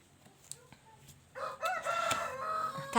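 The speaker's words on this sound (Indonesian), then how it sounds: "wow, suara ayam." A rooster crows nearby in a loud, drawn-out call that rises out of a quiet background.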